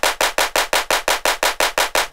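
Clap samples from a music plugin demo repeat in a fast, even machine-gun rhythm, about a dozen sharp loud hits in quick succession with no voices.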